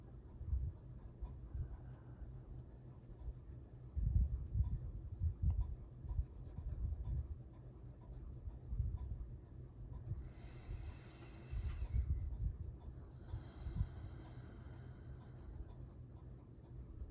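Prismacolor colored pencils scratch and rub across paper on a greyscale coloring page, a soft continuous scribbling with short bursts of quicker strokes, close and quiet, with no voices.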